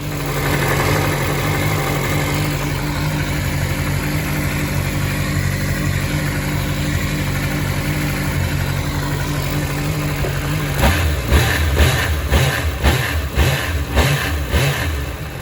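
A 1998 Suzuki GSX-R 750 SRAD engine, warmed up, idles steadily up close, then near the end is blipped in a series of quick, punchy revs.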